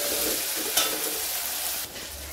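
Tomatoes sautéing in hot oil with asafoetida for a spicy-tangy toor dal, a constant close sizzle with one brief stirring clatter and a softer patch near the end.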